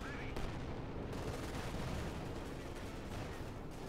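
Tank and cannon gunfire in Company of Heroes 2, with a StuG and Tiger firing: dense, continuous rumbling battle noise with scattered sharp reports, heard at a moderate level.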